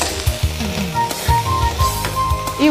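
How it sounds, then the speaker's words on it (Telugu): Chopped garlic frying in oil in a pan, crackling and sizzling close up with the scrape and clink of a stirring utensil in short uneven bursts. "ఫస్ట్ నేను వెల్లిపాయలు వేయించి పెట్టేస్తా పక్కన"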